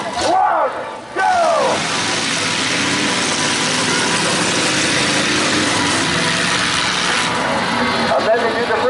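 Monster trucks in a drag race at an outdoor steam fair, engines roaring together in a loud sustained rumble that carries on steadily after a brief voice at the start.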